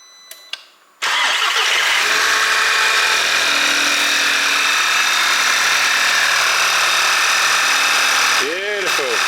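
An Audi TT engine cranks and catches after a PCV valve replacement, then settles into a steady, loud idle close by, with a brief rise in revs near the end and faint voices before the start.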